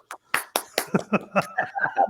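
A small audience claps at a holiday comedy performance in a short, uneven burst of a dozen or so claps that quickens and blurs toward the end, with a little laughter mixed in.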